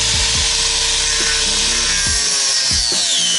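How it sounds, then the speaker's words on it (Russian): Power tool cutting through the metal floor tunnel of a car during a repair, a loud continuous grinding whine with rhythmic strokes and shifting pitch throughout. "Теперь тебе надо весь туннель распилить."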